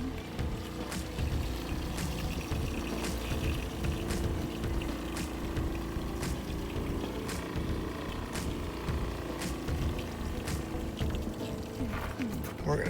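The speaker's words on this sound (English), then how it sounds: "Sucking the bleach water out of the bucket." A pump draws bleach-water sanitizing solution out of a bucket while sanitizing an RV fresh water tank, giving a steady low churning, gurgling run with faint periodic ticks throughout, with a voice talking over it.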